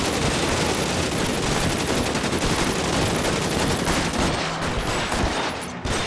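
Dense, continuous automatic gunfire rattles through a street-crime shootout in the video game L.A. Noire, loud and relentless for several seconds before thinning slightly near the end, with no voices.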